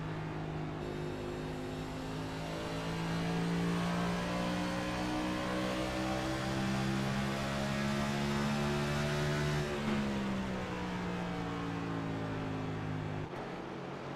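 A race car engine in a Phoenix racing video game holds a loud, steady drone that climbs gradually in pitch, eases briefly near the end, and then drops sharply, with no talk over it.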